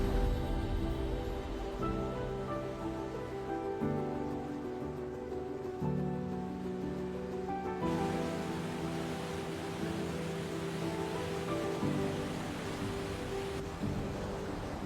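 A steady, dense roar of torrents of water converging into a horseshoe-shaped basin fills the whole stretch without letting up, with sustained musical tones layered over it.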